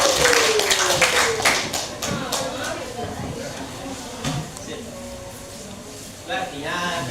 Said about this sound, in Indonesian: Terima kasih aplaus mereka berdua.